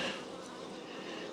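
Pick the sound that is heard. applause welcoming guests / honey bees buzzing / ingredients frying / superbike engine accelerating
honey bees buzzing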